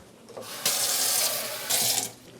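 Water from a kitchen tap runs into an empty tomato can for a sauage ragu, a steady bright splashing that surges louder twice, clearly heard alone without talk.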